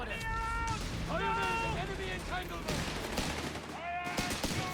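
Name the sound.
machine gun fire in the video game Company of Heroes 3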